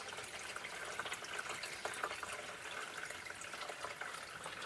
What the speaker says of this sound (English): then I'm just going to use the gallon that I have and fill it up the rest of the way